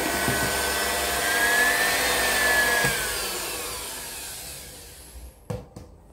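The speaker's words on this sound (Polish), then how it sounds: "Miksuję do uzyskania puszystej masy." An electric mixer beats eggs with 200 g of cane sugar into a fluffy mass, whirring steadily as its pitch rises and falls, then cuts off near the end with a couple of knocks.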